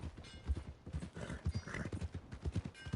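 Horse hooves clip-clop in Red Dead Redemption 2, a steady walking rhythm of distinct thuds close by, with a brief whinny-like tone in the middle and a voice talking softly to the horse.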